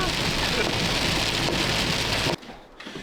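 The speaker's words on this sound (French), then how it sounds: "Attends, mais il y a de la pluie sans orage" Heavy rain without thunder pouring down outdoors, a dense, loud, steady hiss for over two seconds before cutting off abruptly, leaving quieter background.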